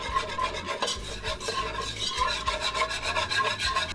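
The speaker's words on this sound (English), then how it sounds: "And then we're just going to whisk this in." A whisk scrapes steadily through butter and flour in a pot while a roux comes together, producing a rapid rhythmic rubbing and scratching close by, without talk.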